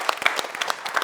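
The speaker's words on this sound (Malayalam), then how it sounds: "അപ്പോൾ സുവിക്ക് നല്ലൊരു കയ്യടി കൊടുക്കാം" An audience claps together in a lively burst of applause at a television show, loud and close, with the hands making quick uneven cracks throughout.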